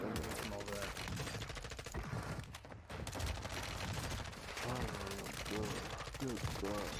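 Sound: M4 rifle gunfire in a video game

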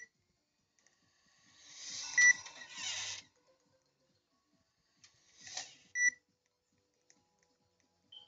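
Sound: beeping in video game

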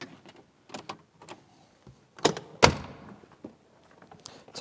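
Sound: unlocking and opening Land Rover 110 back door

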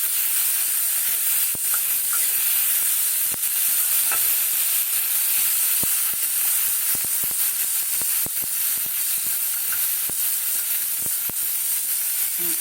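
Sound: frying spice paste with tomato

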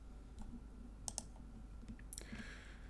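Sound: pressing the X key on a keyboard

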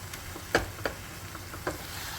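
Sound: eggplant bharta being sautéed and stirred in a pan

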